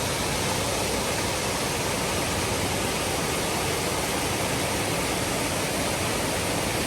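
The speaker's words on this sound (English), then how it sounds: "Found another little small waterfall." A small waterfall about eight or nine feet tall on a wintry hiking trail, with icicles on an overhanging rock, gives a steady, loud, broadband rush of falling water that continues unbroken throughout.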